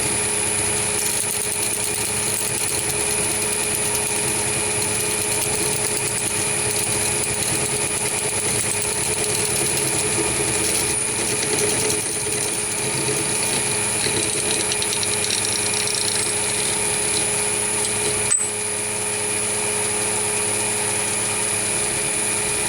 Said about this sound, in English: So I'll just show you a few video clips of the machining of this part on the lathe.